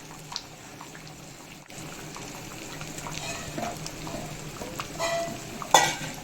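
Soft stirring, sizzling and bubbling as fish goes into a simmering mango fish curry, with low kitchen clatter throughout and a sharper clink of utensils near the end.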